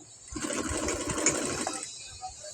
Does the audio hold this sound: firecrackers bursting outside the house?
no